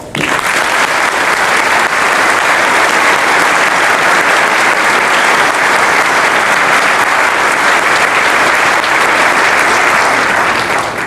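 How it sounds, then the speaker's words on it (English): A church congregation at Mass applauds catechumens during the Rite of Election, loud sustained clapping from a large assembly filling the space evenly from start to finish. "express its approval of these catechumens with applause"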